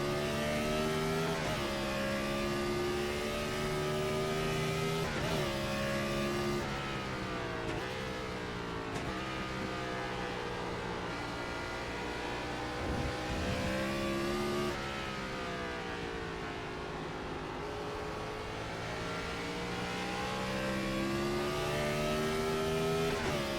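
Race car engine in the iRacing sim at Watkins Glen, a Gen 4 stock car droning loudly and continuously, pitch rising and falling through throttle lifts and shifts, with other cars audible nearby.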